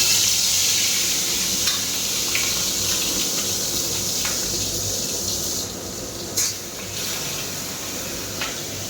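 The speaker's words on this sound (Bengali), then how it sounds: "এইবার এই মাছগুলো আস্তে আস্তে করে ভাজবো" Pieces of catla fish fry slowly in hot oil on a home stove with the chimney running, giving a steady broad sizzle throughout with a few faint clicks and knocks of handling.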